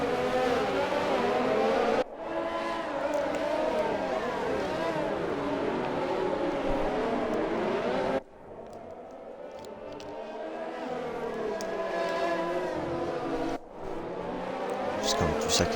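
Formula 1 race cars in an Xbox racing game at the Singapore GP, engines whining steadily with shifting pitch and gear changes, several cars overlapping, with an abrupt cut or shift between stretches and steady commentary running beneath.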